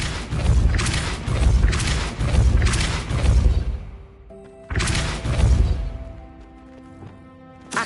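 Spell impacts from the Depulso force-push charm in a wizarding video game: a run of four heavy booming blasts in steady rhythm, a short pause, then another burst followed by ringing magical tones fading out.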